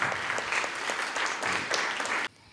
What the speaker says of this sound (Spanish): un nuevo aplauso y caluroso a nuestro visitante ilustre